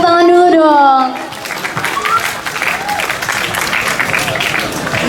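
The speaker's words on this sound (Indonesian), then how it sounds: "Tepuk tangan dulu dong." Audience applause starts after a brief spoken line, a dense broadband wash of clapping that holds steady at moderate loudness for several seconds, with faint voices mixed in.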